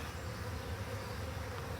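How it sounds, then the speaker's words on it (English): A honeybee swarm fanning at the hive entrance after a swarm catch, a steady, faint, dense buzzing drone with no pauses. "they're doing a little bit of fanning to draw the other bees in"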